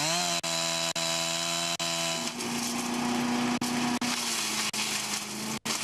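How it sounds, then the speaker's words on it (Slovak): A chainsaw revs steadily while cutting diseased tree branches in a protected nature area, its high buzzing drone dropping briefly between cuts and then shifting pitch as the blade bites into the wood. "kde v chránenej oblasti pílili choré konáre stromov."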